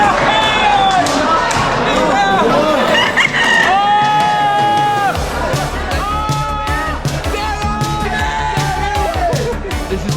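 Roosters crow repeatedly at a cockfighting chicken show, loud and close, with several long drawn-out crows overlapping the noisy chatter of a crowd and nearby voices.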